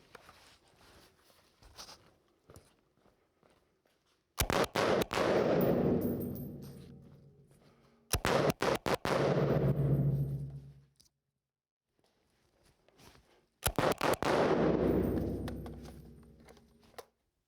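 Three long bursts of rapid rifle fire from an IWI Tavor 7 bullpup at an indoor range, each string of sharp shots lasting a few seconds, with quieter pauses and faint clatter between them.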